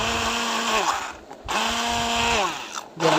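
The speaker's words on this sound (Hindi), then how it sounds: "इसको अच्छे से स्टिक ग्राइंडर के साथ ग्राइंड करेंगे।" Stick blender grinding ketchup with a cooled cooked mixture, a loud close motor whine that dips and climbs in short bursts as the blender is worked through the sauce.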